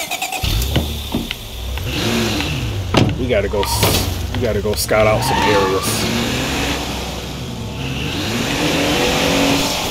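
Car engine in the zombie survival game State of Decay, running and rising in pitch as the vehicle pulls away, heard under steady conversation between two voices.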